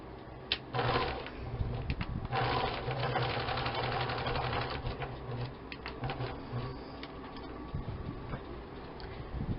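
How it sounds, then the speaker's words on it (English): A sewing machine stitches fabric for a vintage hussif, running in steady mechanical bursts with rapid ticking needle strokes, fairly close and alone with no talk. "And then I'm going to sew the other one."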